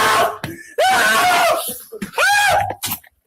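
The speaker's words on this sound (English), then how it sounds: "Listen to these screams." High-pitched screams come through a phone call, loud and strained, in two or three sharp bursts with breathy gaps and coughing-like sounds between them.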